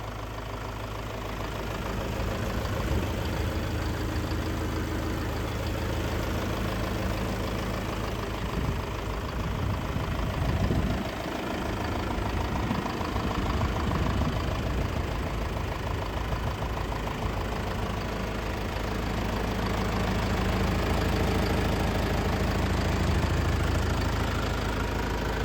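A 2022 Mahindra Yuvo Tech+ 415 DI tractor with about 500 hours of use idles close by, with a steady low diesel chug and a brief, heavier rumble partway through.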